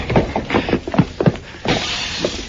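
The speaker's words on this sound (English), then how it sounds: "They crashed out through the front window, Mr. Dillon." Front window glass shatters as men crash through it, a series of sharp breaking and crashing bursts with debris scattering, loud and close, in a Gunsmoke radio drama scene.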